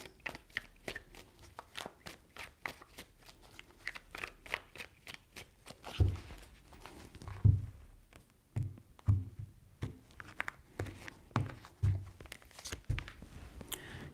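Tarot cards being shuffled by hand, a rapid run of crisp riffling flicks followed by softer, slower shuffles and rustles, close and fairly quiet.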